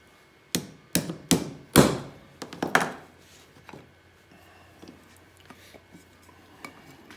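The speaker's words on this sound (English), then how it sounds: "Bring your transfer punch down." A transfer punch is struck into a board held in a center-finder jig: four or five sharp, loud metallic raps in quick succession, then a few lighter taps and clicks that fade into quiet.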